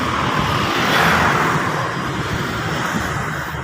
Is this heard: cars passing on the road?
yes